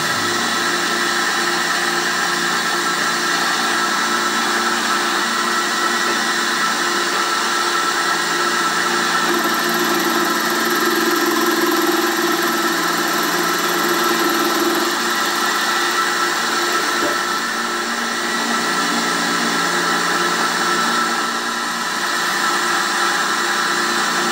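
A 10 mm, 0.6 mm thick slitting saw on an arbor in a milling machine collet chuck cuts a slot in a small steel sear for a miniature M1911, giving a steady, continuous machining whine with a constant motor hum throughout, no talking.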